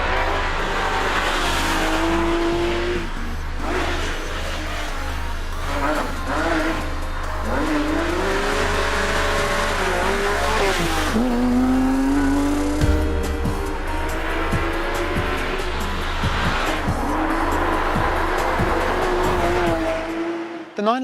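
A Porsche 911 GT3 RS of the 997 generation being driven hard, its engine note rising and falling repeatedly through the gears, with tire squeal and loud, close mechanical roar throughout.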